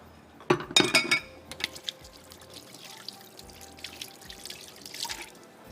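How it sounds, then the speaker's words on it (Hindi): Water splashes and drips close by in a kitchen while hands are washed under a running tap, with a few sharp clinks of glass or dishes early on, then softer trickling and dripping. "ये मैं वॉश करने जा रही हूँ और हाथ भी वॉश कर लूँ।"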